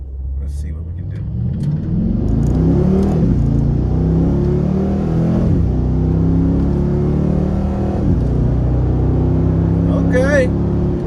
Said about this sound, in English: Oh, you hear that downshift too.